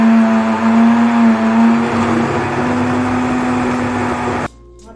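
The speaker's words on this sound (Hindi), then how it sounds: "यहाँ पे मैं मज़ीद 2 से 3 मिनट के लिए अच्छी तरह इसको फिर ग्राइंड करती हूँ" An electric grinder blends jelly and cream cheese with a loud, continuous motor whine that runs close and steady, then cuts off abruptly near the end.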